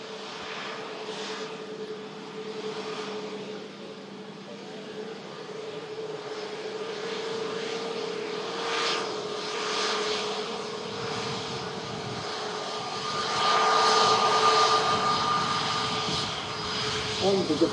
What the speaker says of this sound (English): a Boeing 737-800 carrying out the flight to Dalaman. Just on the taxi out now from the pier at T1.